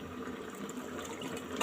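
A cup of water poured into a pan of coconut milk for Bicolano ginataang tilapia, a short steady splashing gush that sounds close and moderately loud, with no talk over it.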